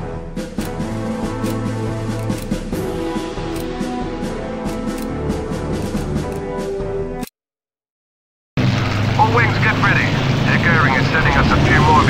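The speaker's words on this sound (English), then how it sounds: "The Fritz continue to send massive groups of bombers out here." Droning propeller engines of WWII bombers over London in the Combat Wings Battle of Britain game, a loud continuous roar that cuts out briefly before resuming, with voices talking over it.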